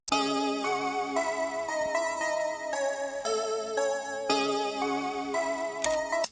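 A bright, buzzy 1980s-style synthesizer preset with no effects plays a sustained chord progression with rich harmonics, dry and steady, ending abruptly.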